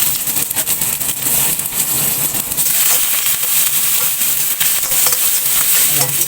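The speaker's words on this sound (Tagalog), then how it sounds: "Fry natin siya kasama ang bawang sibuyas." Garlic and onion stir-fry in a hot pan, giving a loud, continuous sizzle and crackle up close, with utensils stirring and scraping throughout.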